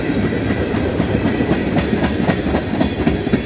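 A tank train rolls past close by on the rails, a loud continuous rumble with steady clickety-clack wheel beats throughout.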